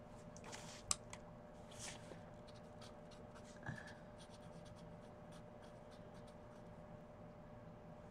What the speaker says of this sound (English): let me write these down